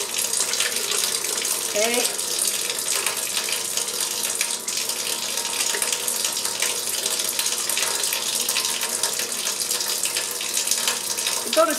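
Tap water runs steadily into a sink while hands are washed with dissolving soap sheets, a continuous close hiss filling the whole stretch, with one brief spoken word near the start.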